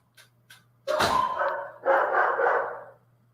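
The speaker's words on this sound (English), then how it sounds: "You will hear the dog barking upstairs" A dog barks upstairs, a couple of faint short yips followed by a louder, drawn-out burst of barking with a steady low hum beneath it.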